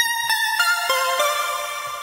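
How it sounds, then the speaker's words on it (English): A bright synth pluck patch plays a short melody of distinct plucked notes, each with a sharp attack and quick decay over sustained harmonic tones, with no talking. "I'm gonna load my signature Soundstorm pluck"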